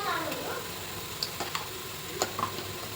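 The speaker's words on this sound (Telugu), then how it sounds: "ఒక 2 నిమిషాలు పచ్చివాసన వరకు ఫ్రై చేసుకోవాలండి." Ginger garlic paste fries in a pan with a steady close sizzle, broken by a few light taps and scrapes from stirring.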